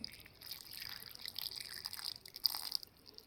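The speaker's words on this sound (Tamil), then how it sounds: "இது கூட நான் வந்து கொஞ்சம் தண்ணி சேர்த்துக்கிறேன்." Water trickles and drips into a batter of ground raw rice and palm jaggery, a soft, steady pouring sound close by with no voices.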